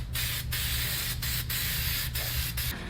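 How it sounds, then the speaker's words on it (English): Appliance epoxy hisses from a spray can onto a fridge in short bursts, loud close hissing broken by several brief pauses, with no one speaking. "time to give this a good coating. We're going to use appliance epoxy."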